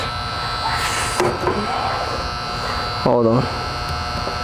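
Air conditioner compressor on a unit that is not cooling, with a failed capacitor, giving a steady electrical hum with a buzzing edge close to the microphone, while someone speaks briefly over it.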